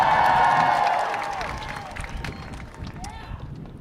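Graduating class of 2016 at a San Francisco commencement ceremony cheering and clapping, a loud crowd roar that swells first, then settles into scattered applause and whoops.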